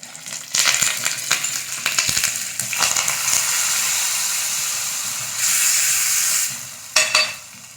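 Curry leaves hit hot coconut oil for tempering, bursting into a loud, close, crackling sizzle with spitting pops, swelling to a hiss midway and flaring again near the end.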